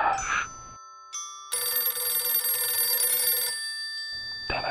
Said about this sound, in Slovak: Telefón.